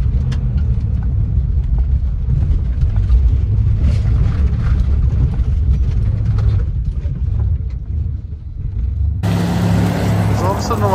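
A 1968 Imperial Crown Coupe with a 440 engine churns off-road through mud and grass, its engine rumbling loud and close throughout with rising revs, while a voice talks over it.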